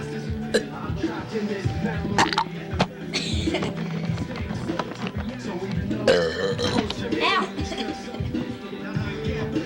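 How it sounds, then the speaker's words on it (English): Burping sounds from a VHS-era burping video, several short bursts scattered across a busy mix of voices and background sound, fairly loud and close. "This is called the spin burp cycle."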